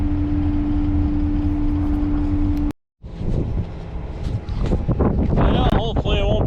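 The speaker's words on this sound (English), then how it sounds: "we got a gale force wind today, about 30 mile an hour" Strong gale-force wind of about 30 mph buffets an outdoor microphone beside a gravel road, a loud continuous rumbling roar with a brief dropout midway, then gusty, uneven blasts and some voice-like sounds.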